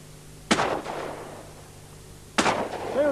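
Two loud shotgun blasts about two seconds apart ring out at a sporting clays competition in Bray, Ireland, each with a short echoing tail across open ground.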